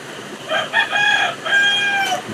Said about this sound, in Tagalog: Pasensya na kayo, may mga manok po dito sa kapitbahay.